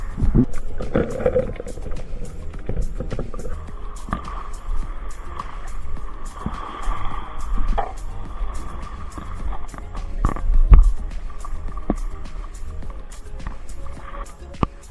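A boat moves across water with a steady low engine drone and splashing, with occasional faint voices in the background.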